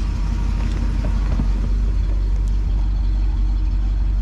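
A 1968 Oldsmobile 442 with its top up drives along, its engine a low, steady rumble filling the cabin without pause or any voices.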